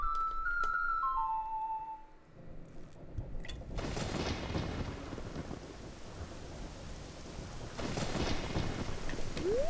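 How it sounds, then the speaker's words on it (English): A game rainstorm summoned by the Song of Storms in The Legend of Zelda: Ocarina of Time. A few clear melodic notes come first, then heavy steady rain with loud rolling thunder swells takes over. "Well, we made it like a right proper storm."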